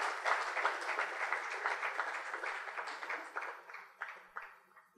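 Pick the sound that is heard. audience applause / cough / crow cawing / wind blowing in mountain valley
audience applause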